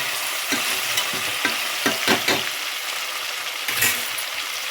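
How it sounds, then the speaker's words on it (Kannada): A ladle scrapes and stirs vegetable pulao with masala in a hot pan over a constant sizzle, with irregular clinks and scrapes close by. "ಮಸಾಲೆ ಹಾಕಿ ಚೌಟ್ ತಗೊಂಡು ಚೆನ್ನಾಗಿ ಗೂರಾಡಬೇಕು"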